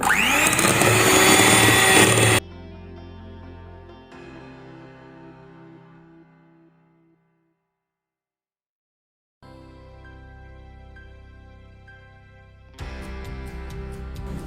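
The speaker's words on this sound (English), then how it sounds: "And now let's continue our whisking." An electric mixer whisks vanilla cupcake batter in a mixing bowl: a loud motor burst at the start, then a quieter hum that fades to silence, resumes, and rises loudly again at the end.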